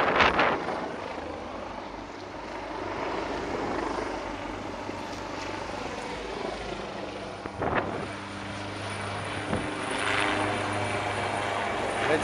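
A police helicopter passes overhead in Reggio Calabria as police patrol cars and motorcycles leave a square in a tribute to firefighters, its steady rotor drone filling the scene with wind buffeting and traffic noise.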